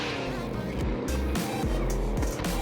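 Vehicle driving in Warzone, the video game: a steady, continuous engine drone runs throughout with shifting pitch and a brief tire squeal, loud and close, with no talk over it.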